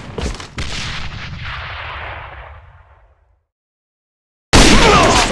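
Gunfire and a grenade explosion in the AVA online shooter: sharp shots open into a big blast whose roar decays slowly into silence, then another loud burst erupts abruptly near the end.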